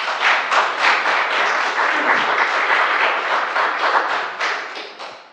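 Sustained applause from an audience at a borough council meeting in Madison, New Jersey, steady dense clapping for several seconds that tapers off toward the end.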